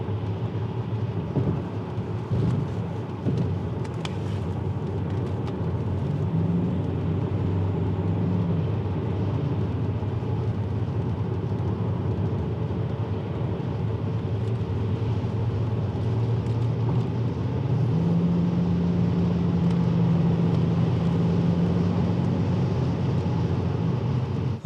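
Steady low interior drone of a BMW 740 E38 with a V8 diesel engine cruising on the autobahn at 120 km/h, with constant road and engine rumble throughout.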